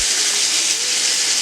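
Pork chops searing in a hot pan, a loud, dense, unbroken hiss of frying close up, steady for the whole moment.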